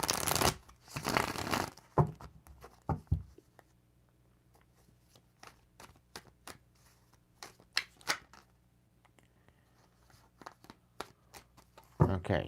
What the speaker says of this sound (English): Gonna go ahead and shuffle them back into the deck.